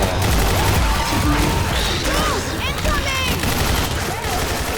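Rapid bursts of gunfire from the video game Left 4 Dead 2, dense and loud throughout, with game effects layered in and voices talking over the shooting.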